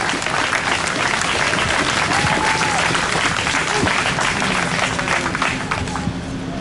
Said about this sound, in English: Round of applause for Suzette.